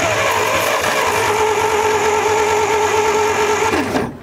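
An old abandoned truck's engine cranks on the starter, a loud, rhythmic, continuous churning with a mechanical whine that drops off as the cranking stops at the end.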